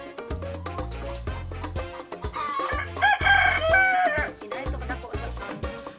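At a breeder farm raising Dominant CZ parent stock, a rooster crows mid-clip over clucking chickens, set against steady, repeating tonal sounds.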